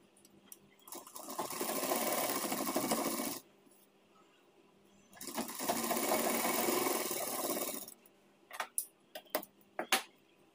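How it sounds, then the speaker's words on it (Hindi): A sewing machine stitches a trouser pocket in two long, steady whirring runs separated by a pause, followed by a few sharp clicks and taps from handling the machine. "तो यहाँ पे देखिए यहाँ से हम सिलाई लगा देंगे इस तरह से।"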